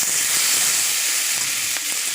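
Tomatoes are added to onions frying in a pan, giving a close, continuous bright sizzle and hiss with small crackles throughout.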